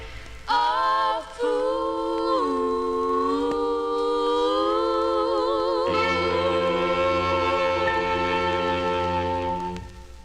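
A 1956 song plays from a vintage vinyl record: sustained, wavering vocal harmonies over a soft backing band, steady and moderately loud, with no talk.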